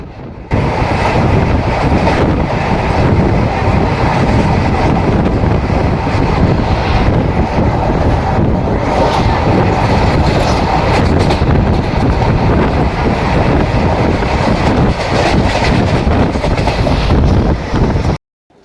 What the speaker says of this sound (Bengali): আমাদের ট্রেন এখন পার করছে কংসাবতী নদী